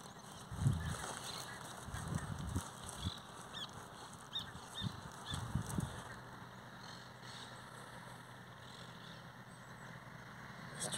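Honking bird calls ring out in short bursts across open foggy pampa grassland in Rio Grande do Sul, with fainter distant calls and a low steady background rumble of a distant train.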